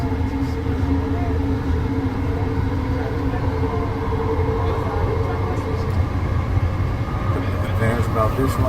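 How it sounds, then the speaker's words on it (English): Steady rumble and rattle of an elevated Long Island Rail Road train to Jamaica, Queens, heard from inside the car, continuous and fairly loud with a low mechanical drone. "As you can tell, we're on a Jamaica train."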